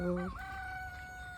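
A single short chicken call on a poultry farm, close and fairly faint, followed by a quiet sustained tone in the background.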